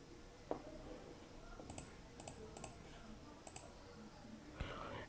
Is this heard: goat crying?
no